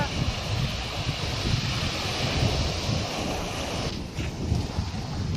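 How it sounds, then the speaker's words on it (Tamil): Strong sea waves and gusting wind on a beach, a continuous loud roar of surf and wind buffeting the microphone, with no talk. "காத்தும் அலையும் ரொம்ப அதிகமா இருக்கு"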